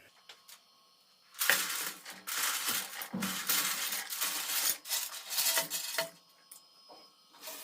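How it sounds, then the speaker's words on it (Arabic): Pasta clatters and rustles into a pot of salted water in a burst of dry, scattered clicks and crunches, then settles back to quiet bubbling. "اسقط المكرونه."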